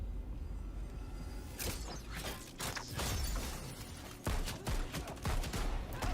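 Rapid bursts of gunfire from dual pistols in a Tomb Raider game trailer, with sharp cracks, clattering mechanisms and shattering debris. The shots come loud and close over a heavy, rumbling backdrop.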